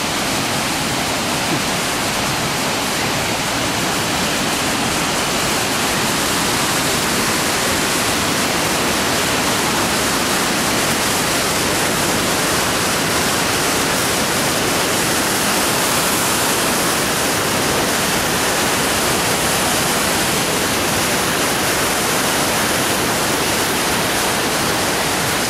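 Cascade Falls pours in a dense, steady roar of falling water, loud and close, an unbroken hiss that fills the whole span with no voices.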